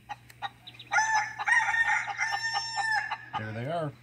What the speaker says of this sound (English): He's the one cock-a-doodle-doing, isn't he, buddy?